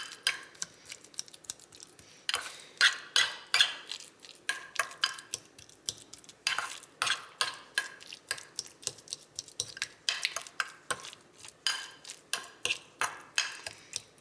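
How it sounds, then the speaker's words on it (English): Avocado being mashed to a guacamole consistency with a fork or utensil in a bowl, a steady run of quick scraping, clicking strokes close by, with short pauses between bursts and no talking. "I'm just going to mash this together until it becomes like a guacamole consistency"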